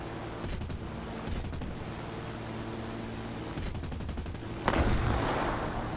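Explosive-ammo gunfire in War Thunder, short bursts of rapid automatic shots over a steady engine drone, ending in a louder blast that hangs in the air.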